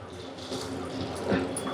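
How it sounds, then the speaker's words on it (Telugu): Water pours steadily into a pot for a couple of seconds, a continuous close splashing rush with no talking. "ఇప్పుడు నీళ్ళు పోస్తున్నాను"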